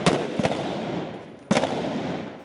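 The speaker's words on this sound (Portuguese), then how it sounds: "Rajadas de fuzis e metralhadoras deixaram os policiais encurralados nessa esquina." Bursts of rifle and machine gun fire crack out during a police operation against drug trafficking in western Rio de Janeiro, two quick loud volleys early then a single sharp shot, echoing down an empty street.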